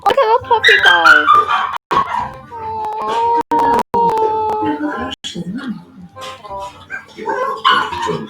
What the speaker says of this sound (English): Look at the puppy, guys.